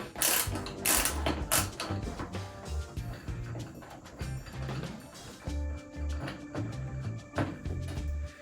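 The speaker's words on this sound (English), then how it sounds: "let's get our Phillips head screwdriver. Start by removing the 2 front screws" A Phillips screwdriver turns screws out of a clothes dryer with small clicking, ratcheting mechanical sounds in short bursts, close and fairly crisp, with no talking.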